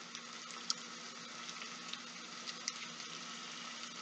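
Veggie hash browns fry gently in a pan with a steady, faint sizzling hiss and a few soft crackles and pops scattered through it.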